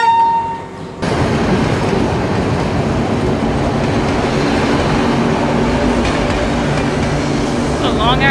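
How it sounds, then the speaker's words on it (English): A long train rolls past in a film scene, a loud, sustained rumble with rhythmic rail clatter that swells in after a quieter moment and holds, with faint squeals near the end. "A long ass train."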